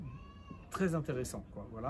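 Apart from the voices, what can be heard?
cat meowing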